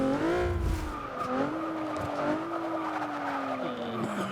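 A 1999 Mitsubishi Lancer Evo VI GSR in Forza 6 brakes hard, its tires squealing in a long, wavering screech over steady engine noise for several seconds.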